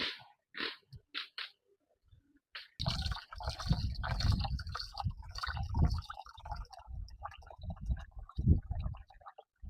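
Water used to wash rice pours out of a container with a splashing, gurgling rush after a few soft clinks and handling noises, close and fairly loud.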